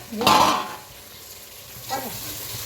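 Tomato being stirred in a frying pan, with a soft scraping swish near the start and another later over a faint steady sizzle, close up.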